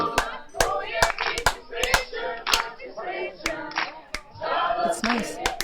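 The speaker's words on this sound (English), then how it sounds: "Oh my god, I've got a new clap." Slow hand claps made with the fingers pulled far back give hollow, barking pops like a seal, about a dozen sharp close claps in an uneven rhythm with murmured voices between them.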